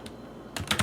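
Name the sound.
typewriter sound effect from a video game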